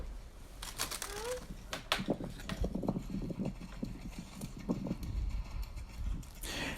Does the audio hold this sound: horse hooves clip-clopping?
yes